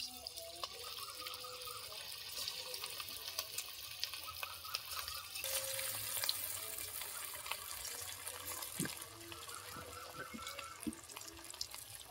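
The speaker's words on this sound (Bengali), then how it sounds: "তেলটা গরম হয়ে গেছে, এগুলো এবার ভেজে নিচ্ছি।" Semolina and potato snacks fry in hot oil, a faint continuous sizzle and bubbling with soft clinks and occasional scrapes, heard quietly without voices.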